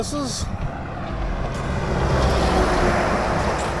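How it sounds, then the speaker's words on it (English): Trucks and cars passing on the road beside the Storms River Bridge viewing deck, a steady loud rumble of traffic with engine roar that swells slightly as vehicles go by, and a brief voice at the start. "there's trucks passing by"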